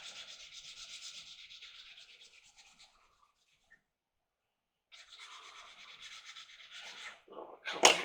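Hand sanding on a 1/16 scale Jagdtiger tank model kit with 600-grit sandpaper: close, soft scratchy rubbing strokes in two stretches separated by a quiet pause.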